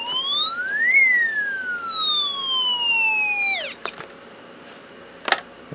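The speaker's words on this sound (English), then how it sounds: "we get that siren effect again." An electronic siren tone from a Snap Circuits kit, triggered by contact on graphite, sweeps up, then slides slowly downward, cutting off abruptly, followed by quiet hiss and a short click.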